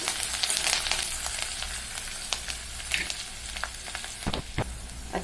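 Green chili and tamarind chutney with coriander stirred in a hot pan, a steady close sizzle broken by scattered scraping clicks and knocks of the spoon, no talk.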